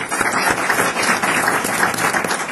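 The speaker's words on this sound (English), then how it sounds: "So if we could give him a round of applause." Audience at a university distinguished scholar event applauding a guest panelist, steady dense clapping filling the hall throughout, loud and continuous with no speech over it.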